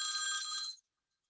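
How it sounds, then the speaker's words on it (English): A phone ringing in a single short electronic bell-like trill that cuts off abruptly, close and clear, during a budget workshop meeting. "that was my phone ringing."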